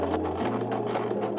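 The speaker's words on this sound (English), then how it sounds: "I finished sewing this part." A sewing machine stitching fabric on a first sewing project, a brief, fairly quiet run of rapid, even mechanical chatter lasting just over a second.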